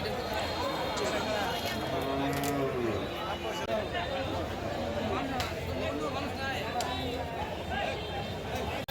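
Cattle low and moo repeatedly over a dense crowd of chattering voices, with the busy, noisy bustle of a large outdoor cattle market before Eid al-Adha.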